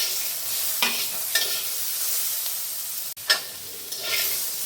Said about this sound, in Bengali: টমেটো দিয়েও প্রায় 2 মিনিট আমি নাড়াচাড়া করলাম।